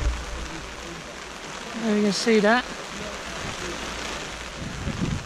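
Heavy rain pours down in a steady, dense hiss, with someone speaking briefly partway through.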